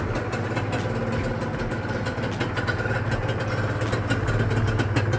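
A Honda NSR motorcycle engine idles steadily nearby with a low, even rumble and a regular chugging pulse, no voices.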